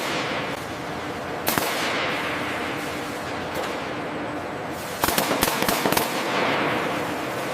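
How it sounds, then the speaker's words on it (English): Sharp pneumatic rivet hammer bursts on the tail cone of a C-130 Hercules under structural repair, a few isolated cracks followed by a rapid cluster of hits over steady workshop noise. "Hitting the pneumatic now."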